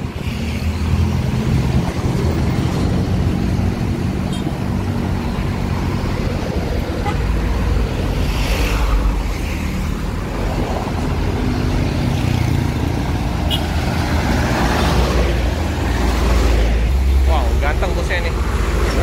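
Sempati Star Panoramic tronton bus passing on a road amid traffic, a sustained engine roar with horn toots, while people talk nearby.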